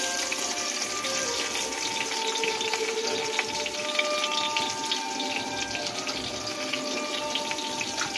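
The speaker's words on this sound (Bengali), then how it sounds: "ওই আলু ভাজার তেলেতে আমরা বেগুনগুলোকেও একইভাবে ভেজে নেব।" Eggplant pieces, lightly salted, sizzle steadily in hot oil left over from frying potatoes, a dense crackling hiss held at moderate loudness throughout.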